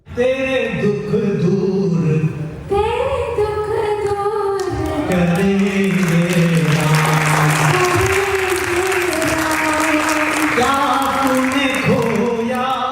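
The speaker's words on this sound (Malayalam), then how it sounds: "അതിഥികളടക്കമുള്ളവർ കൈയടിച്ചും ഏറ്റുപാടിയും പാട്ടിനെ ആഘോഷമാക്കി" An audience at a special-education school exhibition in Muscat claps along to a live song, a steady wash of applause running under the sustained singing and music.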